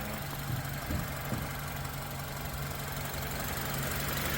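A car engine idles steadily and quietly, a low continuous hum with a faint knock, alone throughout.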